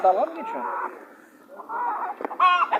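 Chickens cluck at a poultry market in Dörtyol, Hatay, with several short close clucks and calls in quick succession amid the market's bustle.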